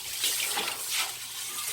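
A faucet shower of water runs over a fishing rod to rinse salt from its guides, producing a steady, close hiss of splashing water with no pauses.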